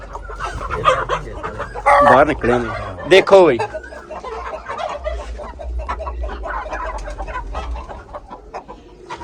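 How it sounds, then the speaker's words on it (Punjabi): Aseel roosters clucking and calling in a fancy poultry collection, with loud, close bursts of crowing-like clucks followed by softer scattered clucking, while someone talks briefly. "ਆਪਣੇ ਕੋਲ ਮੁਰਗੇ ਅਸੀਲ ਨੇ ਜੀ"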